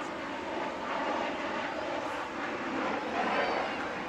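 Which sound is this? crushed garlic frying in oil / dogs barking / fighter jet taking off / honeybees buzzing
fighter jet taking off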